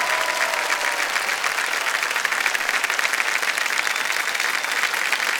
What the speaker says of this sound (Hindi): जोरदार तालियां बज जाए रश्मि जी के लिए